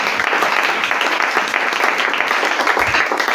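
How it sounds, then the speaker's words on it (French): A church congregation applauds in a sustained burst of dense, close clapping that stays loud and steady to the end. "Est-ce qu'on peut une fois de plus acclamer pour vous?"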